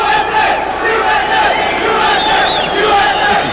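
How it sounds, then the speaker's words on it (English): A small group of American fans cheer and shout for boxer Paul Banke during an amateur boxing bout, a steady crowd roar at moderate distance with a commentator talking over it. "as you hear some American fans, just a handful cheering Banke on"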